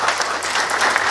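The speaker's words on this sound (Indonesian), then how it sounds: "Tepuk tangan dulu dong buat Pak Roy." Crowd clapping at a communal fast-breaking gathering of a workers' union and company management, a brief, dense burst of many hands, loud and steady throughout.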